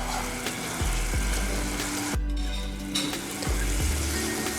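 Sugar and jaggery cooking in a pan for peanut chikki give a steady, close sizzle and bubbling, with a low rumbling hum and occasional scraping sweeps as the pan is shaken or stirred.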